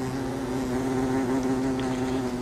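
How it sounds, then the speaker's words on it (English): Bees in the game Don't Starve, a steady droning buzz with a clear humming tone that holds evenly throughout, close and alone without any talking. "As you can see, there are bees flying around and everything."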